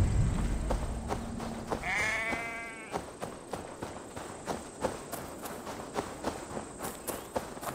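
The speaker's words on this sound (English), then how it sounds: "Sounds like a sheep, and not a happy one." A distressed sheep bleats once, quavering, in the video game Assassin's Creed Valhalla, over steady footsteps crunching through the game world and a faint insect-like hum.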